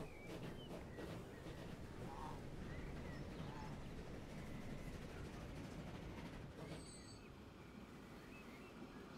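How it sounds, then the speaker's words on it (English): Freight train rolling past in the game Transport Fever 2, a steady rumbling clatter of wagons with faint ambient birdsong, quiet and continuous before easing off near the end. "Oh, look, we had to wait for a freight train."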